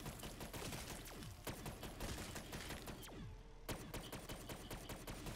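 Rapid gunfire from the Black Ops 3 Zombies map The Giant rattles in dense automatic bursts that barely pause, with a few sharper single shots, fairly quiet overall and with no talk over it.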